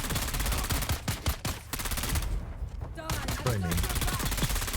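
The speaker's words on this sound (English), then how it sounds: "Someone appears to be shooting at me." Rapid automatic gunfire in the video game Dune Awakening hits around the player in dense repeating bursts throughout, with a voice briefly speaking over the shooting.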